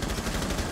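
Rapid gunfire in the tactical shooter Rainbow Six Siege, a quick burst of closely spaced shots at moderate loudness.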